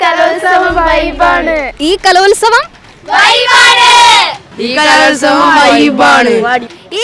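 Students cheer after winning first place at the Kannur revenue district school arts festival: loud, close bursts of shouting voices rise and fall in waves, with brief pauses between the cries.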